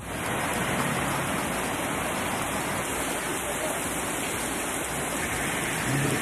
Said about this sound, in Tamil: கடலூர், சிவகங்கை, திண்டுக்கல் மாவட்டங்களில் கோடை மழை.